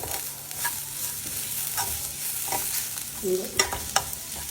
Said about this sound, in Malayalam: ഇച്ചിരി കറിവേപ്പില ചേർത്ത് കൊടുക്കുക